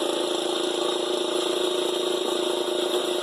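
A small Wheel Horse garden tractor engine runs steadily, driving an alligator shear used for cutting scrap and tires; a continuous, even mechanical hum holds at constant loudness without revving, close and alone.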